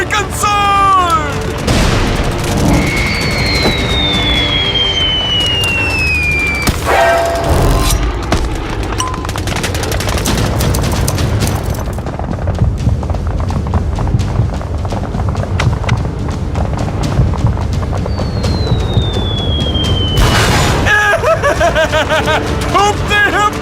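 Animated battle scene with grenade explosions and gunfire: continuous dense booms and rattling shots fill the mix, with whistling projectiles and shouted voices over a loud, chaotic backdrop.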